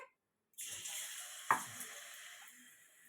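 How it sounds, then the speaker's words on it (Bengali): Prawn-head fritters in batter drop into hot oil and burst into a bright, hissing sizzle that begins abruptly after a short silence, with a sharp splash partway through, then settles into steady close frying. "এটা ভাজবো"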